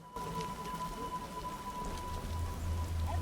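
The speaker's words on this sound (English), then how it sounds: "Oh, it's raining." Steady rain falling in The Witcher video game, a dense, even patter of drops on surfaces throughout, with a faint low rumble building near the end and no voices.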